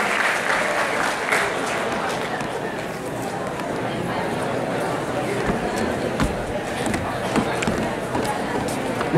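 Dense, steady applause from an audience for students at a school event in Jalgaon, a continuous roar of many hands clapping at an even level throughout, with faint voices underneath.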